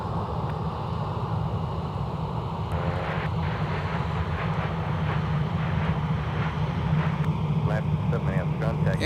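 An American Airlines jet departing MSP airport for Charlotte gives a steady, broad engine roar that swells slightly toward the end, with tonal hum beneath and faint talk mixed in.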